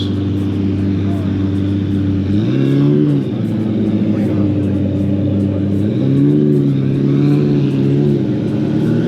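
A Lamborghini Countach's engine idles with a loud, deep rumble at a cars and coffee meet, rising twice in brief revs, while people talk nearby.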